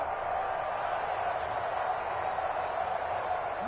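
A steady, dense crowd roar holds at an even level throughout, like a stadium audience swelling during play, in an EA Sports football video game on PS4.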